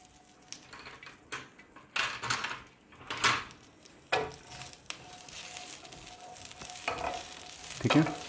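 Vegetables cook and get stirred in a pan, making a close, continuous frying sizzle broken by irregular scraping and clattering strokes of a utensil against the pan, with no voices.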